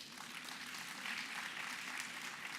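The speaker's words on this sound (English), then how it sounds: "I think that deserves a round of applause." An audience applauds at the launch of the 16 Days of Activism, a soft, even wash of clapping that sounds fairly distant and continues for the whole stretch.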